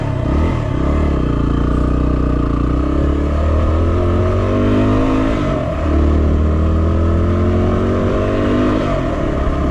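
A Yamaha WR250R dirt bike labors steadily up a loose gravel hill, its engine droning loud and close with rising and falling revs and gravel clatter throughout.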